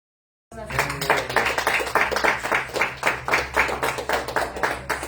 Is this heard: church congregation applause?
yes